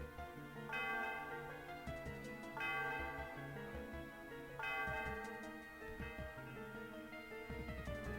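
Celestial Tower bell in Pokemon White rings in game audio, loud struck chimes at regular intervals over a sustained, layered melodic backdrop, each strike blooming and ringing out before the next.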